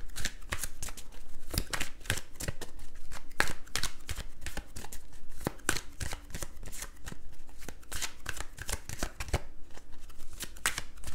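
Tarot cards are gathered and shuffled by hand in a long, steady run of crisp riffling and flicking. Up close, with no voices.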